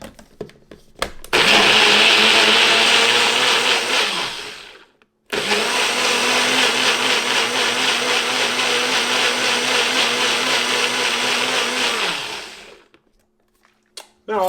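Countertop blender whirring loudly on a Korean galbi marinade with soy sauce, running in two long bursts with a short pause between them and a quiet tail at the end.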